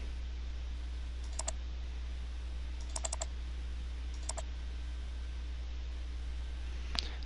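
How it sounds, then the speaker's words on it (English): Keyboard shortcuts tapped on a computer keyboard: a few small clusters of quick, faint clicks spaced seconds apart over a steady low hum, with one sharper click near the end. "I'll actually copy it using keyboard shortcuts"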